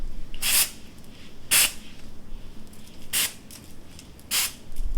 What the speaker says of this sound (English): Where's my volume spray?